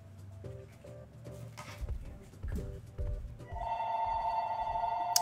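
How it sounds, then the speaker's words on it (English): A ringing phone in Donkey Kong Country: Tropical Freeze sounds as a steady, bright electronic ring that starts partway through and keeps going to the end, layered over game music and effects. "That's a phone."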